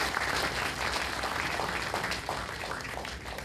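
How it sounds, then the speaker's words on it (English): A hall audience at the GDG DevFest Chennai 2012 developer conference gives a steady round of applause, dense and sustained, with many hands clapping together and no break. "I think he deserves a round of applause for making it here"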